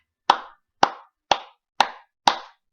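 Five sharp, evenly spaced claps ring out one at a time in a slow, steady rhythm, each a crisp slap that dies away quickly into silence, close and loud with nothing else heard.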